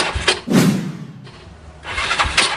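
An old Yamaha Mio scooter fitted with a big carburetor is being started. Its starter cranks in a few rough, close bursts with a brief lull between them, and the engine never clearly catches and settles into running.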